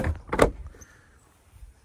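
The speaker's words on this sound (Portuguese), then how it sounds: "Vou fechar a porta aqui para vocês verem" A door being shut on an Airbus H125 (Squirrel B3e) five-seat helicopter: one close, solid thump with a brief rattle, then quiet with a faint metallic ring fading out.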